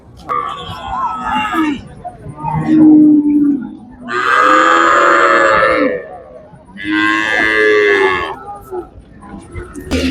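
Cattle at the Manapparai cattle market in Tamil Nadu moo in several long, loud calls, two of them strong and sustained, with crowd chatter and voices from the busy market around them.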